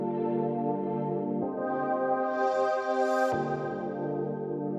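A warm, sustained synth pad thickened with chorus, reverb and saturation holds a rich chord alone, shifting to a new chord partway through and then back, with a brighter airy sweep swelling before the return.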